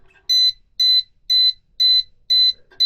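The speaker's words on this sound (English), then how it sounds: "when you've cooked your motor, it very helpfully sounds an alarm which you probably won't hear" A £3.90 DIY motor protection module for an NTC10K thermistor sounds its overheat alarm: five identical shrill electronic beeps at an even pulse, close and clear, with faint clicks between them.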